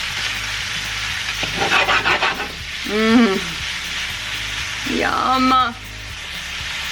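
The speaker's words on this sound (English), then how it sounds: "Get this cooking until the shrimp turns pink." Shrimp frying in a pan crackle and sizzle in a steady, close wash, while a person talks briefly over the cooking twice.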